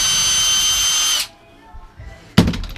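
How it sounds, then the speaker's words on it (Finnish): A power drill removing a self-drilling screw from a Space Wagon cab whirs steadily for about a second, stops, then briefly starts again after a pause, close by. "Poraruuvi auki."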